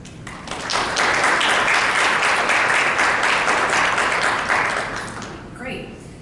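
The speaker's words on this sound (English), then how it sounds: "I want to start by giving yourselves and your families a round of applause." At an honor society induction ceremony, inductees and families break into applause that swells quickly, holds as a full, close patter of many hands, then tapers off, with a voice briefly speaking as it ends.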